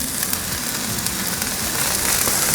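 Peppers and onions sizzle in oil on a hot flat-top griddle, a dense, even hiss with crackling pops running steadily throughout, close and fairly loud with no talking.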